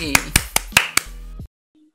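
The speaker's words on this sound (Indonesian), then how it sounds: "kita kasih tepuk tangan ya sahabat tani" A few sharp hand claps, about six in a quick uneven run, welcome Aba Junaidi, a farming guest introduced on stage; the claps are close and bright and stop abruptly, leaving near silence.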